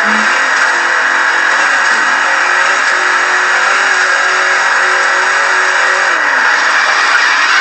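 A car engine in a racing video game revs hard and steady while the car drifts, a loud continuous mechanical drone with slight pitch shifts and no talking.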